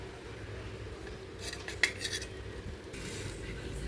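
Masala bread is lifted out of a pan onto a plate, with quiet scraping and a few light metal clinks from utensil against cookware over a low background hum.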